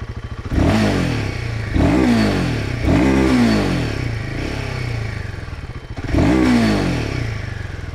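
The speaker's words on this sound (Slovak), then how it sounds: "Môžete už počuť, ako je ten motor hladný po otáčkach" A 2024 Royal Enfield Himalayan 450 motorcycle engine catches and is revved hard several times, each sharp blip rising and falling, loud and close with no voices.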